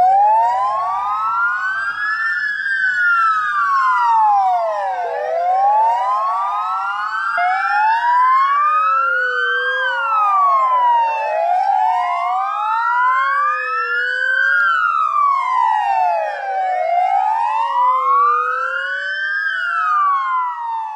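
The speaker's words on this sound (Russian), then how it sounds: "Сирена." An emergency vehicle siren, tied to ambulance medics in Ukraine, wails loud and continuous, rising and falling in long repeating sweeps with layered overlapping tones for about twenty seconds and nothing else heard.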